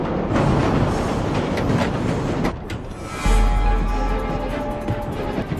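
A London Underground tube train at rush hour rumbles and clatters loudly, with a heavy low surge as it moves off and a steady mechanical whine.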